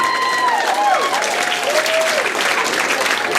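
Comedy club audience applauding at a stand-up show, a short burst of clapping with a few whoops, while a voice slides in pitch over the top.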